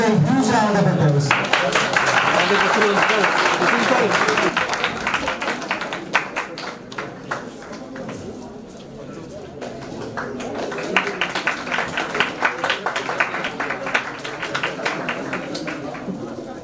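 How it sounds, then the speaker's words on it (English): Applause from the audience at a chemical society's annual conference swells into steady clapping, with a voice speaking over it at first. "Please give a huge round of applause."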